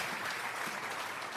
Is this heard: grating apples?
no